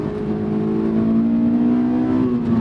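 A Honda S2000 engine holds a steady, loud high-rpm drone, pitch climbing slowly as it revs hard past 6,000 rpm into VTEC, with no talking.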